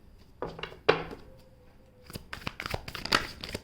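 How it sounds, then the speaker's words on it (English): Someone shuffles a thick deck of tarot cards, making soft papery rustles and sharp flicking snaps, sparse at first and then a quicker, busier run of card noise. "It's a very thick deck, so I do shuffle it off the screen."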